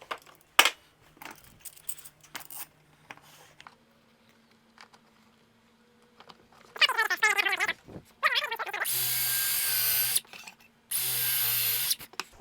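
Power drill pre-drilling a wooden cross piece, heard as a brief whirring burst that rises in pitch, then two sustained loud runs of the motor separated by a pause, with scattered handling clicks and knocks beforehand.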